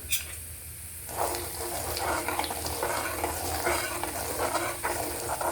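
Tempering of chili powder and salt hissing in hot oil for chivda, a steady close sizzle that swells after a brief quieter start, with light stirring scrapes.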